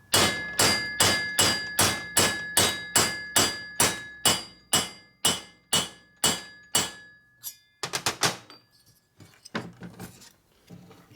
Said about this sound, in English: And then you start hitting on it.